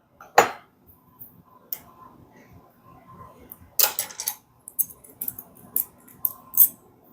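Metal measuring spoons clinking while sugar is measured, a series of sharp, scattered clicks and taps spread over several seconds in a quiet kitchen.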